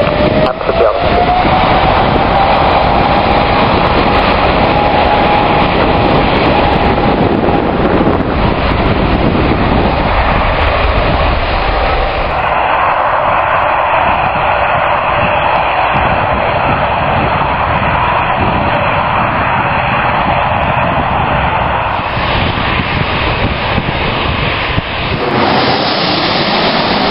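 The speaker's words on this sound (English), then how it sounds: "Emirates 40, the surface wind is 200 degrees at 5 knots, runway 15, clear for takeoff" Emirates airliner taking off from runway 15 at Birmingham airport in summer, a loud sustained jet engine roar that stays strong throughout, with a faint whine rising early on and the rumble shifting midway.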